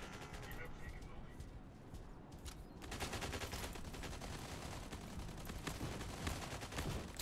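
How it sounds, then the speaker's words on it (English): Rapid gunfire rattles in a shooting game, dense bursts of automatic fire that grow heavier partway through and continue almost without pause. "Please stop shooting me."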